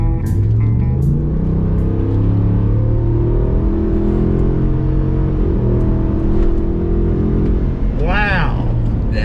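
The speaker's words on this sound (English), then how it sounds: "I'm gonna let you hear this engine as it's meant to be heard." A 2020 Ford F-350 Super Duty Tremor pickup engine pulls hard on a straightaway, a loud, steady low drone and rising whine that holds throughout from inside the cab, with a brief sweeping chirp near the end.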